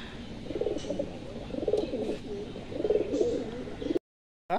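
White naptha pigeon hen cooing nearby in three soft rolling bouts, with a brief cut to silence near the end.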